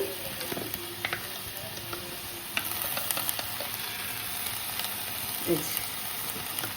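Vegetables such as papaya and capsicum fry in a pan for chicken soup, a steady hiss of sizzling oil with scattered stirring clicks and scrapes up close.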